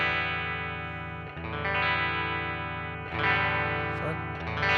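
Electric guitar played through a DSM & Humboldt Simplifier amp simulator while the mic placement is swept, giving a loud, sustained distorted chord tone whose brightness shifts as strums repeat.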